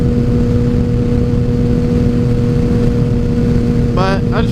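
A Yamaha FZ09 motorcycle rides at night, its engine a steady, loud drone with a constant hum throughout, and a brief whistling tone rises near the end.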